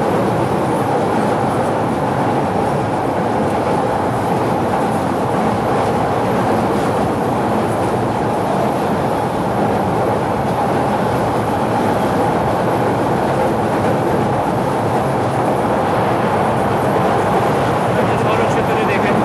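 A passenger train crosses the Jamuna railway bridge, heard from aboard as a loud, unbroken rumble with faint rhythmic clatter from the wheels and carriages throughout.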